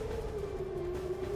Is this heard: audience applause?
no